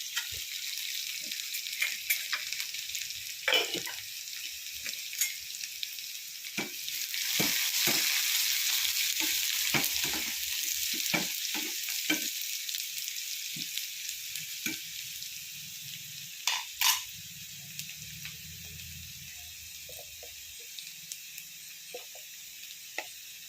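Curry leaves crackle and sizzle in hot oil for a tomato chutney, a steady close frying hiss with sharp pops, swelling louder midway and then settling, no voices over it.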